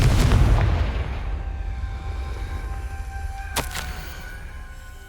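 A Confringo explosion spell in the game Hogwarts Legacy gives a deep booming blast at the start that rumbles and fades, followed by a sharp crackling burst a few seconds later.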